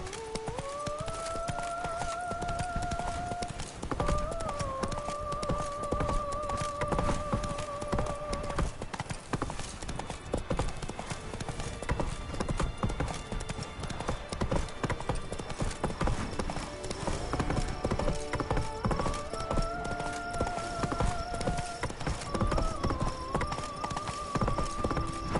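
A horse galloping in The Witcher 3 video game, rapid rhythmic hoofbeats pounding continuously throughout, with a neigh and game music tones layered over the steady clip-clop.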